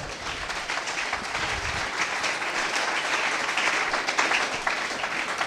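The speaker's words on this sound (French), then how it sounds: "Et s'il acclamons très fort pour le roi des rois." A congregation at a church service applauds loudly, a dense, steady wash of clapping that carries on throughout without letting up.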